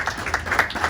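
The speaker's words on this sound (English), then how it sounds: "Give yourself one last round of applause." Applause from a class of participants at the close of a session, a short burst of scattered hand claps with broadband room noise and no talk over it.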